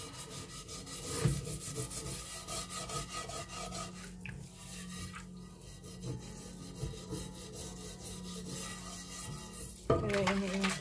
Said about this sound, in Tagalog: Kuskusin din ito konti.